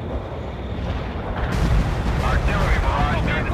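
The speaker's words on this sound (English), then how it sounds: "Heavy artillery barrage inbound." A heavy artillery barrage in a World in Conflict battle: a dense, continuous roar of rumbling blasts and explosions that grows louder partway through, with a voice speaking over it.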